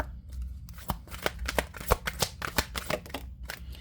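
Tarot and angel cards are shuffled by hand in quick, close, crisp riffles and slaps, a dense rhythmic flutter of card edges with brief pauses, with no talking over it.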